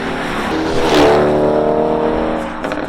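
A twin-turbo Audi RS7 tuned to 750 hp and 1250 Nm accelerates hard, its engine note loud and close as it climbs in pitch, swells to a peak, then holds a steady roar before easing near the end.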